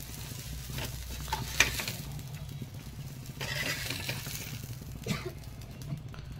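Brinjal frying in oil in a pan after being coated with chilli powder, a steady close sizzle with occasional scrapes and stirs from a spatula across the pan.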